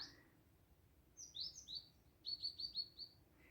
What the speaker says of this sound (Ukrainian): Пташки співають, сонечко пригріло, виспівують вже.